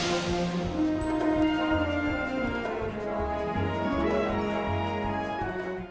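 Star Trek sci-fi TV series theme music, with long sustained tones over a steady pulsing bass line. Purely instrumental, with no voices.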